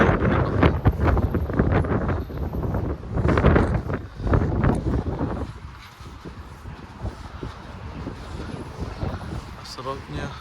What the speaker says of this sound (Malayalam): ആ നല്ല കാറ്റുണ്ട്. നല്ല ശക്തമായ കാറ്റും കാര്യങ്ങളൊക്കെ ഉണ്ട്.